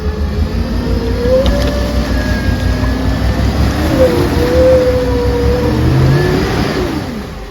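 A car engine revs up under light throttle on a rural road in Florida, with rising and falling engine tones that stay steady and fairly loud across the whole stretch.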